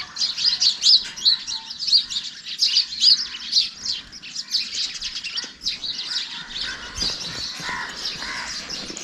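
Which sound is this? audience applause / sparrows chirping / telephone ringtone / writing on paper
sparrows chirping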